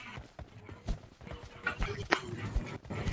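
Horse hooves clip-clop in a video game, an uneven run of hollow knocks mixed with people talking over them.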